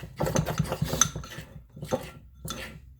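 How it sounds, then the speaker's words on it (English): Pork roast gets seasoning stirred in with a utensil, giving a run of clattering, scraping clinks against the dish and metal, busy at first, then two short separate bursts after a pause; no voices. "We'll just give this a stir"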